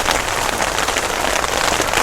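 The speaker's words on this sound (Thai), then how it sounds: "ตอนนี้นะคะฝนตกแรงมากนะคะ อาจจะมีเสียงฝนรบกวนก็ขออภัยด้วยนะคะ" Heavy rain pours down hard and unbroken, a loud, dense wash of pattering drops on surfaces that fills the scene without pause.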